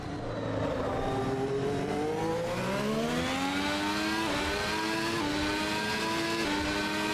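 A race car engine in the sim game Assetto Corsa Evo revs steadily upward through the gears, a continuous rising mechanical whine with brief shift dips, heard alone at moderate level.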